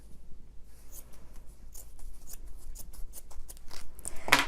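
Scissors snip through a folded fabric strip, cutting it in half with a run of close, crisp rustling cuts and a sharp final snip.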